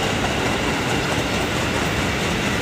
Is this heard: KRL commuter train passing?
yes